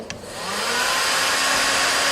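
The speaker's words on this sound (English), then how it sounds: "if you can put the hairdryer back on" A hair dryer starts up after a brief click and blows steadily at full power, a loud continuous whooshing hum with no voices.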